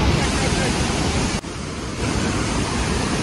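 A hidden waterfall near Dumar village in Munsiyari, Uttarakhand, pours down as a steady, close, full-bodied rushing roar that dips only for a moment midway.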